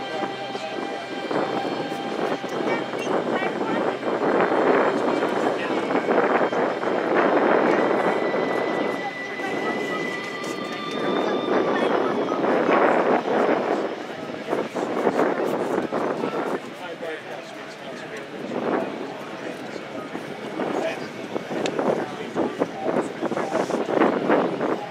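Jet engines of a C-5 Galaxy military transport roar loudly and steadily at an airshow, with a broad rushing wash that swells and fades as the aircraft passes, and a commentator speaks over it the whole time.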